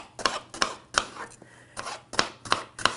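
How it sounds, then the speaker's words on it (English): A knife chops through a fresh onion on a board in crisp, separate strokes, some in quick pairs and some after short pauses, close and clear with no talk. "So we're going to chop some onion."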